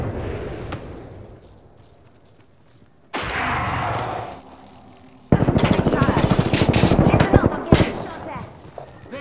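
Gunfire in a squad-based battle royale shooter game, bursts of rapid shots and crackling fire that come in loud sustained volleys with quieter gaps between, with a voice talking in between.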